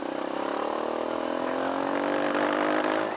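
Kawasaki KLX140 dirt bike engine held near half throttle, a steady close buzzing drone with a slowly rising pitch and slight roughness, running alone without speech.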